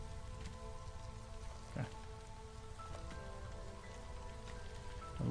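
Steady drizzle patters continuously in the video game Against the Storm, an even wash of fine rain with a couple of faint clicks and a brief spoken word over it.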